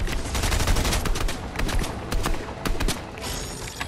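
Rapid bursts of video game gunfire come at the player in a dense, crackling volley of overlapping shots, loud and close, with no one talking over it.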